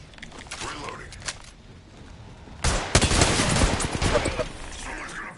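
Gunfire in the shooter Apex Legends: a quieter stretch of distant shots gives way to a dense, loud burst of rapid automatic fire, with a voice talking over parts of it.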